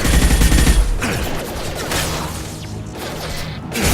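Heavy gunfire in the Mass Effect 2 video game, with a loud burst up front, then sustained combat noise and a sharp shot near the end.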